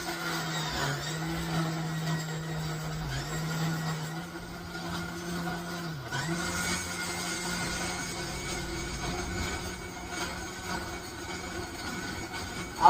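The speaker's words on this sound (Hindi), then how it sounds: "अब इस पे मिक्सी में इसे ग्राइंड कर देते हैं" A mixer grinder grinding herbal ingredients for a homemade beauty cream, a steady moderate motor whine that holds a constant pitch throughout, with one brief dip partway through and no talk.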